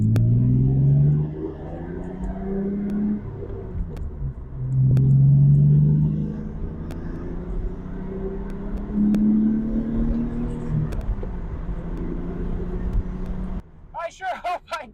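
A BMW E36 with a reinforced subframe and Revshift motor mounts pulls hard from low revs, its engine note rising and falling in a loud, steady drone with a rumbling undertone, ending in a brief rattle of suspension noise.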